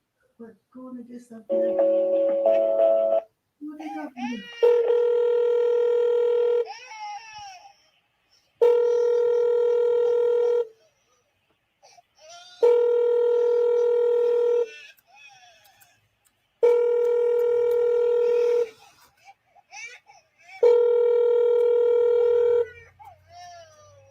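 Telephone call tones: a short burst of keypad dialing followed by a repeating sequence of loud, steady ringback or dial tones, each lasting about two seconds with brief gaps between them, alone without talk.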